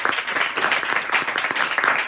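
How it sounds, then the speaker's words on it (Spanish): Short, lively applause from the audience at a book presentation in Madrid, a close, busy crackle of many hands clapping with uneven peaks, heard alone without talk. "yo creo que tenemos que darle un aplauso."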